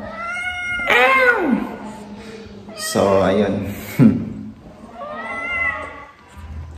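A young cat of about six months gives several drawn-out, loud meows with falling and rising pitch, spaced by short pauses, while a person talks briefly between them.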